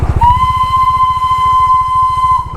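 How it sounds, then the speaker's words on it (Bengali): Darjeeling toy train blowing its whistle, one loud sustained steady tone lasting about two seconds over a fast rhythmic chugging pulse, close by and with no voices. "ওই দেখো টয় ট্রেন কি সুন্দর লাগছে"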